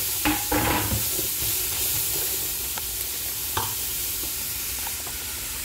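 Frozen saluyot leaves sautéed with coriander in a hot pan: steady loud sizzling with repeated scraping stirs of a utensil, close up and without any talk.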